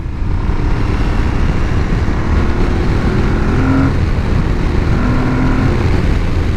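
An Aprilia Tuareg 660 motorcycle engine drones steadily at close range while riding, a continuous low rumble with wind noise, holding a fairly even pitch throughout.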